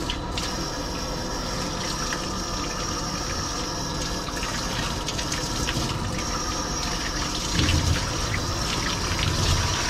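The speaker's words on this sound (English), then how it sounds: "I'll let that water drain down a little bit for a minute." Water draining steadily from a dog grooming tub after a bath, a continuous close gurgling rush with no talking.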